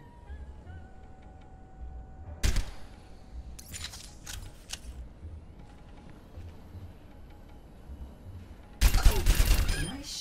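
Gunfire in the Overwatch tutorial: a few sharp isolated shots and short bursts separated by quiet gaps, ending in a loud rapid volley, with faint talk now and then.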